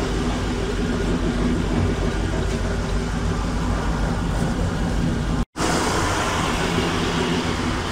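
A car engine runs steadily and close by with a dense, even rumble, a faint ticking from the prop rod mixed in, and a brief cut near the end before it carries on.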